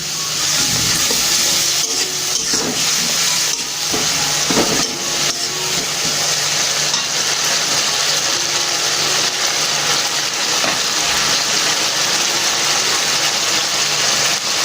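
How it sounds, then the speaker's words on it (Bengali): Egg tadka masala cooking in a kadai after a splash of water, a steady loud hiss and sizzle with occasional scraping knocks from stirring. "এটা আস্তে আস্তে নাড়তে হবে।"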